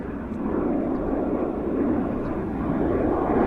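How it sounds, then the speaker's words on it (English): WestJet airliner taking off at Vancouver airport, heard as a steady, fairly distant jet roar that holds an even, broad rumble throughout without voices. "So WestJet taking off in the background."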